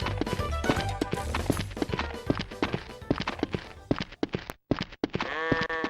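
Sheep in the PS1 video game Shrek Treasure Hunt: synthetic bleating over busy game music and heavy, clumping footstep sounds, with rhythmic clip-clop thuds throughout.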